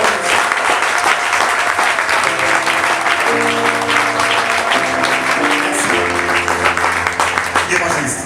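An audience applauds loudly and steadily over music with sustained tones at a church gathering, celebrating a father's birthday, with the clapping continuous throughout.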